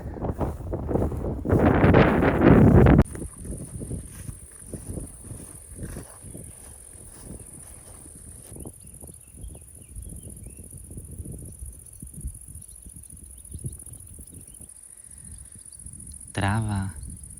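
Crickets in the grass during a morning walk give a thin, continuous high trill for most of the stretch, following a burst of wind noise at the start, with a person speaking now and then.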